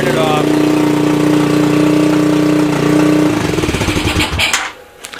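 A 1987 Honda TRX200SX ATV engine fitted with a pit bike ignition runs steadily and loud at close range with a strong low hum, then its tone roughens and it sputters and dies away near the end.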